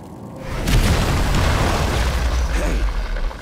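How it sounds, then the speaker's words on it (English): Grenade blast in the first-person shooter Modern Combat 5, a loud, sustained booming explosion with a heavy low rumble that rolls on for several seconds. "It's a grenade."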